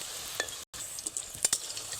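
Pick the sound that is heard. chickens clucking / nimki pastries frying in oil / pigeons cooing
nimki pastries frying in oil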